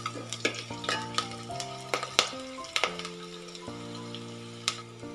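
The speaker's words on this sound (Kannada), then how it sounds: "ನೋಡಿ ಎಲ್ಲ ಪದಾರ್ಥಗಳು ಚೆನ್ನಾಗಿ ಫ್ರೈ ಆಗಿದೆ" Ghee tempering for temple-style khara pongal sizzles quietly in a pan while a spoon stirs, giving a string of sharp metallic clinks and scrapes over soft frying.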